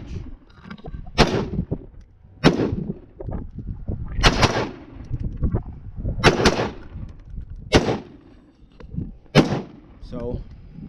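Gunshots fired outdoors in the desert, about seven sharp loud cracks spaced a second or two apart, each with a short rumbling tail, over some background speech.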